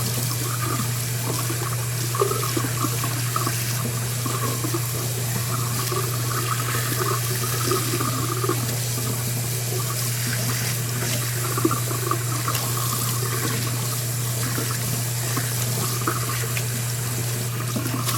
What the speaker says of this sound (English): it takes a little bit of rubbing and takes hot water to get it to melt